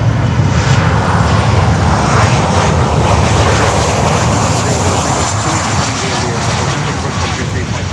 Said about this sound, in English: 737-800 coming here on runway 9.